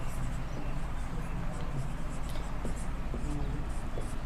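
Steady, close scratching of writing during a Class 9 maths lesson on the number system, continuing evenly for several seconds over a constant low room hum.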